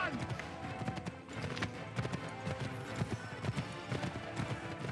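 A spurred horse gallops in Assassin's Creed III during the Battle of Lexington and Concord, with rapid rhythmic hoofbeats throughout, under dramatic game music and voices talking over it.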